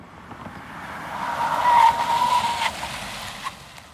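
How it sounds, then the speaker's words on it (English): Car tires squeal and skid under a full emergency brake stop on a road, a loud rising screech that peaks midway then fades as the car halts, with no voices. "at the sign here we do on the full emergency brake."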